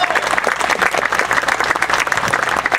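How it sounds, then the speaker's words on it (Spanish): A crowd at the 2016 Tlacotepec town fair, gathered in a church atrium with bands, applauds the Holy Virgin. The clapping is loud, dense and continuous throughout, with no voices on top. "quiero invitarlos a que le brindemos ese aplauso, pero con más fuerza, con más cariño, con más amor"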